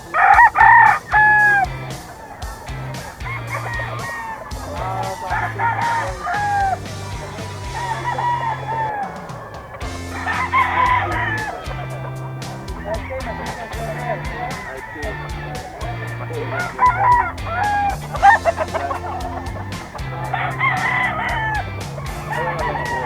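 Kelso Henny gamefowl roosters crow repeatedly at a pet market in Bocaue, the loud calls rising over clucking and a busy background while people talk.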